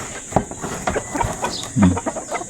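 A Texas bantam hen clucks softly nearby on a backyard chicken farm, with a few short, scattered clucks over faint background noise.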